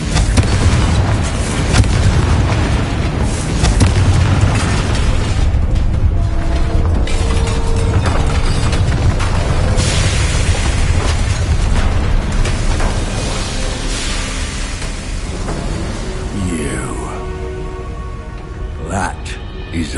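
Confringo fire-spell blasts in the game Hogwarts Legacy: loud rumbling explosive booms and crackling debris over a dense battle din, with voices speaking amid the fighting.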